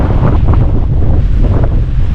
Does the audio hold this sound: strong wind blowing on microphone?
yes